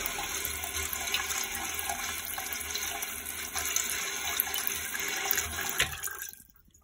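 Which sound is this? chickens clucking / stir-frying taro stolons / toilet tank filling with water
toilet tank filling with water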